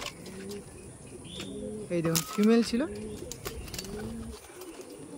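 Madrasi pigeons, a male and female pair, give soft repeated coos close by, with a few chirps and a wing flutter, while someone talks over them.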